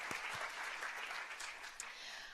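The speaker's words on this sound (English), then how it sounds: "Let's give a round of applause to Marie Field" An audience at a One Book, One Philadelphia kickoff event applauds, a dense continuous round of clapping from many hands, moderately distant and fairly quiet, lasting a couple of seconds.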